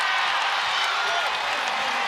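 Crowd at a Cincinnati vs. Louisville women's college basketball game applauding in an arena, a dense, steady wash of clapping and cheering that holds loud and even throughout.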